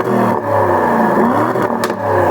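A 4-litre twin-turbo V8 car engine revs hard against a soft limiter, its loud close roar rising and dipping unevenly as the limiter cuts in, with brief crackles between pulls.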